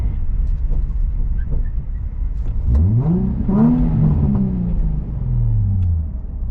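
A Nissan 350Z drift build's engine revs up in a few rising sweeps, loud and close, after a low idle rumble, with no one talking.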